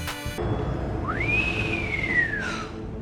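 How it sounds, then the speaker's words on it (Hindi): Green Goblin's taunting whistle from Spider-Man: No Way Home, a single long, clear whistled tone that sweeps upward, holds, then slowly glides down over a steady low rumble. "जब ग्रीन गॉब्लिन पीटर के सामने अपने ब्लेड आर्म्स रिवील करता है, तो उसे चिढ़ाते हुए वो सीटी मारता है।"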